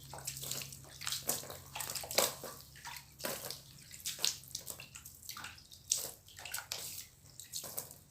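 Water is thrown onto a wall to wet it before plaster skim-coating, making quiet, irregular splashing bursts and washes that come close together over a low background hum.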